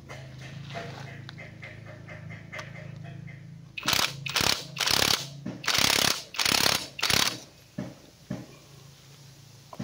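An impact wrench bursts in about six short, loud rattling pulses on a motorcycle clutch nut during a TMX 125 clutch assembly, after a quieter stretch of workshop hum and small mechanical clicks.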